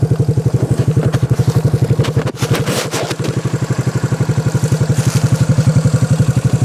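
A four-wheeler's engine idles close by, stopped on a trail while out shed hunting, with a loud, fast, even chugging pulse throughout, briefly broken by a clattering rustle midway.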